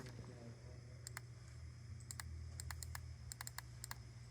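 Soft typing on a computer keyboard while entering commands in circuit simulation software. Sparse clicks come in short bursts over a low, steady room hum, with no talking.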